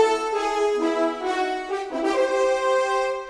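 A melody of short staccatissimo notes with a softer, lower-velocity harmony underneath plays in a few quick phrases, clear and moderately loud, with no voices.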